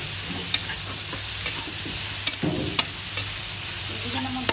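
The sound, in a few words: onion and tomato sautéing for pork munggo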